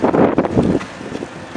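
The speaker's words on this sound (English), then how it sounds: "it's pretty windy here" Strong wind gusts buffet the microphone outdoors in a valley, a loud roaring rush in the first part that eases into a lighter, uneven blustering.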